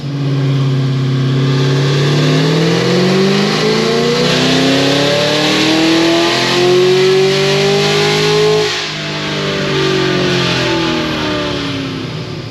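A car engine revving hard on a dyno during a fuel-tuning pull, a loud close roar whose pitch climbs steadily through the gears, dips briefly, then keeps straining at high revs.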